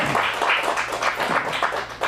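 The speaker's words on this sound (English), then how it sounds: "Give them a round of applause." Audience applause at a youth improv showcase, a brief burst of many hands clapping at moderate volume, fairly steady throughout.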